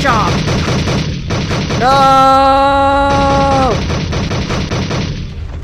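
Rapid turret gunfire in the video game Aliens vs Romans rattles loud and continuous throughout, with a sustained rising-then-steady tonal whine partway through and a brief shout over the shooting.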